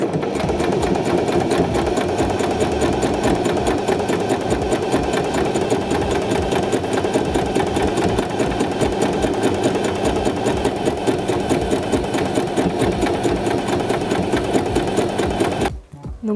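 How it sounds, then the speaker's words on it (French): A sewing machine hems a pair of trousers with a steady, loud, close mechanical whir that runs without a break for about fifteen seconds before stopping abruptly. "Et on va venir coudre au plus près de notre repli."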